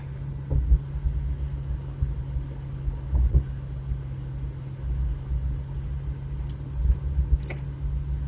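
Small Chevrolet Chevette car driving, a low steady engine rumble from inside the cabin with occasional light clicks and bumps over several seconds.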